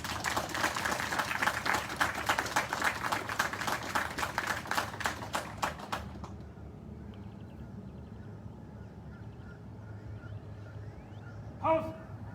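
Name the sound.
audience applause for Marines and sailors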